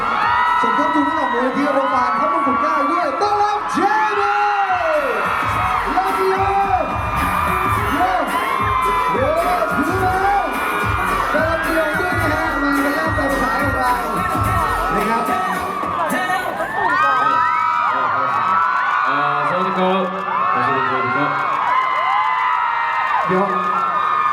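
A large crowd of fans cheers and whoops nonstop at a Thai fan exhibition event, with shouts and yells rising and falling over a loud, dense roar and a voice speaking through it.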